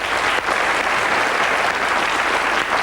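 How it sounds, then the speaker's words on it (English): Steady, full studio-audience applause on the 1989 UK TV game show The Pyramid Game, made by TVS, dense clapping heard clearly and alone for a few seconds. "Give him a nice round of applause, ladies and gentlemen."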